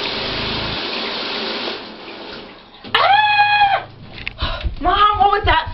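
Shower water gushes from the tap in a steady hiss for a couple of seconds, then cuts off and gives way to a voice singing and speaking close up.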